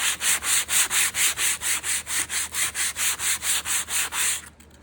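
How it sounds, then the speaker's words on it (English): Hand sanding of fabric coated in Fusion paint using 220 grit sandpaper, a steady run of rhythmic back-and-forth scratchy strokes, close and even, about three per second, stopping abruptly at the end. "I'm going to go over it with a 220 grit sandpaper and give it a sand"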